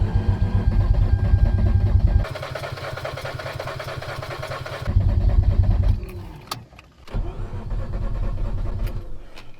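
Mazda RX8 rotary engine cranking and trying to start, a loud rhythmic starter chug that catches into rough sputtering bursts and falters, then cranks again close by.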